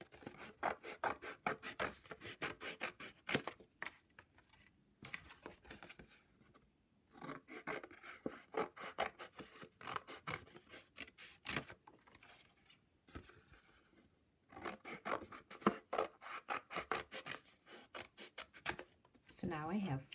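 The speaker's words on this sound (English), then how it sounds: "take your scissors and as neatly as possible, cut on those folds" Scissors snip through paper in quick rhythmic runs of crisp cuts, pausing briefly between passes, close and fairly quiet.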